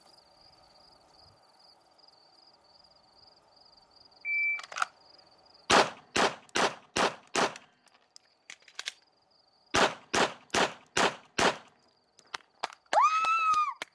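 A pistol fires two rapid strings of five loud, close shots in an IDPA 5x5 classifier stage, with a pause for an emergency reload between them and a short electronic beep before the first string.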